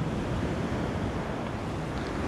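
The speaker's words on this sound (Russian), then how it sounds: "Посмотрите, какие сегодня волны." Winter sea waves break and wash on a Crimean shore in a steady, dense roar with heavy wind rumble over the microphone and no distinct individual crashes.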